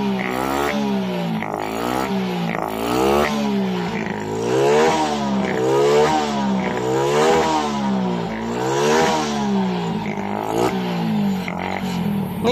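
A Suzuki Raider J 115 Fi motorcycle with a fault that makes it stall while riding and sometimes hard to start fires up and revs repeatedly. Its engine rises and falls in steady, loud, close throttle blips.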